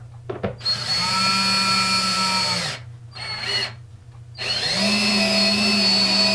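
An 18-volt DeWalt drill, upgraded to a lithium-ion battery, drives screws while building an outfeed table: loud whining bursts close by, two long runs split by a short pause, with a brief click at the start.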